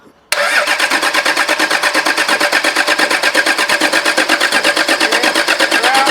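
Diesel engine of a Milo 2 4WD with a 12HT motor cranks and catches after a brief silence, then runs with a steady, loud, rapid knocking pulse close by.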